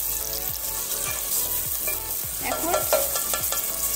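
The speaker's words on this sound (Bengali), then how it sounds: "একটু নাড়াচাড়া করে নেব।" Vegetables and two spoonfuls of sour yogurt being stirred in a frying pan for veg dum biryani, a close sizzle with rhythmic spoon scrapes and knocks about twice a second, and a single brief spoken word.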